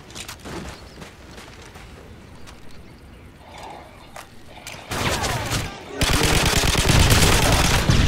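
Gunfire in Call of Duty MW3: scattered lighter shots at first, then loud, dense automatic bursts close by that keep rattling through to the end, with brief voices mixed in.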